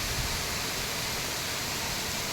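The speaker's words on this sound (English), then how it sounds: "This is the last waterfalls before I reach Gaurikund" A waterfall along the mountain trek to Gaurikund roars as a steady, dense rush of falling water, heard close and alone without any voices.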